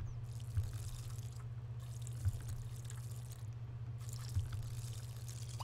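Watering plants in The Sims 2: a soft, continuous hiss of spraying water comes in three spurts separated by short pauses, with faint drip accents, all quiet over a low steady hum.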